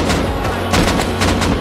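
Rapid gunfire in the video game Rust, a string of loud sharp shots in quick bursts with uneven rhythm, layered over a steady low rumble and some background voices.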